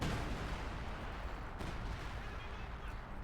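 An American artillery barrage in Company of Heroes 2 pounds a machine gun position in the centre of the map, a dense, continuous roar of blasts and rumbling that stays loud and close throughout.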